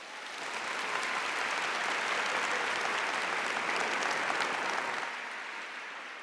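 A church congregation applauding during a sermon, a broad wash of clapping that swells up, holds steady for several seconds, then tapers off at the end.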